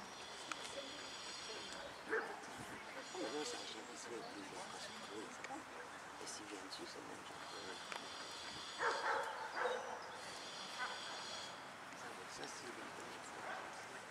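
A dog yips and barks in short bursts with a few whimpers, moderately near, while people talk over it.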